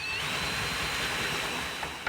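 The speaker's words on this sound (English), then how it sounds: "now I'll drill it to the correct depth" A power drill bores steadily through a teak deck chair leg into the rail, its continuous whine and grinding held loud and near for the whole stretch, easing slightly at the very end.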